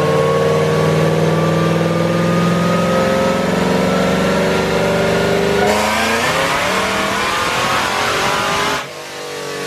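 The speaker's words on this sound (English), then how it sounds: "that was the first pull on a 150 shot, and it spun on the dyno" A Camaro ZL1 engine on a 150-shot of nitrous roars through a dyno pull, loud and sustained with rising revs, then shifts character partway through before cutting back to a quieter idle near the end.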